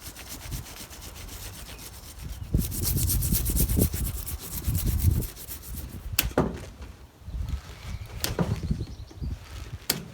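Electrical cable for a Volvo ECR88 excavator starter is dragged through a length of conduit in uneven rubbing, scraping pulls, with a few sharp clicks and knocks between strokes, close and with no talking.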